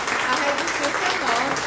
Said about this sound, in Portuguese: Então, quero pedir uma salva de palmas à Larissa.